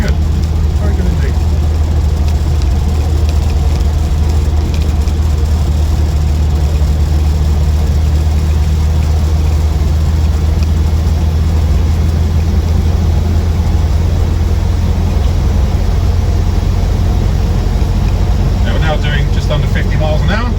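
A 1968 Morris Traveller drives along below 50 mph, giving a steady, loud, low engine drone and road rumble heard from inside the cabin throughout, with faint talk under it.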